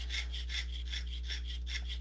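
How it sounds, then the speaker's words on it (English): Long, steady saw strokes from hand sawing metal at a jewellery sawing and piercing bench, a regular back-and-forth rasp repeating about ten times over two seconds, close and fairly quiet over a constant low electrical hum. "when you're sawing, you want to make sure you're using nice"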